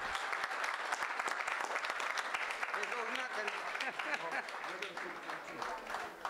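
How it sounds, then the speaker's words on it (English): Audience applause at the LCHS 2019 Hall of Fame induction ceremony, honoring an inductee: a steady, fairly quiet round of clapping through the hall, with voices audible beneath it. "Let's give a big round of applause."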